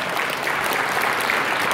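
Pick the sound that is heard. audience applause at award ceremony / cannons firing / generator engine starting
audience applause at award ceremony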